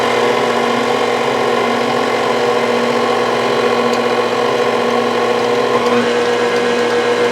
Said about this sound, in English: you also want to start low as the flour begins to mix in, then you can speed up the mixer